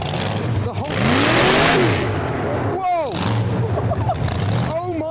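A car engine with a massive supercharger blower, one of the tallest engines in a lineup of show cars, revs in loud surging bursts amid crowd noise and excited chatter nearby.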